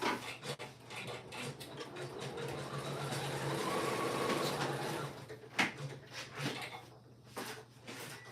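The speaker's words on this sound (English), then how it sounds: "So while that machine is sewing the front, the other machine is sewing the flat." Two embroidery machines stitching in the hoop, a steady mechanical whir and rhythmic needle chatter at low level, broken by a few clunks and knocks near the end.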